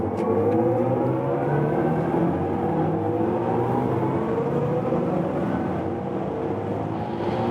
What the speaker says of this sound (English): let's now accelerate from 110 kilometers an hour.